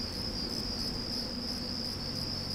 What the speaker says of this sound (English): God, those crickets are loud, aren't they?